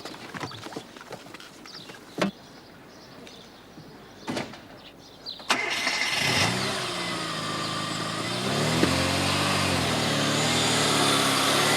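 A car engine fires up and settles into a steady, loud running rumble with some revving, after a few scattered door clunks and knocks; no talking is heard.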